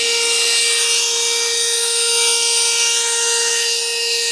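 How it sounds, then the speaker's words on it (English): A steady, high-pitched whir of a drill-driven brush at low speed scrubbing car carpet in an Audi A6 wagon, continuous and close, with a bright buzzing tone and no talking. "Set my drill speed to 1."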